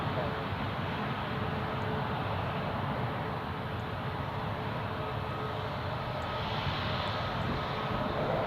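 British Airways airliner passing near Newcastle International Airport, a steady broadband engine roar holding at the same loudness throughout, with no clear rise or fade.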